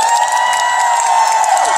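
Cinema audience at a film stage greeting in Yongsan CGV, a loud sustained crowd cheer with high shouts, steady and close, filling the whole moment.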